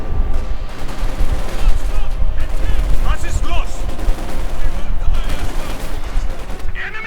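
Gunfire rattles through a strategy video game battle, with dense bursts of small-arms and machine-gun fire layered over heavy booms, loud and continuous from start to finish.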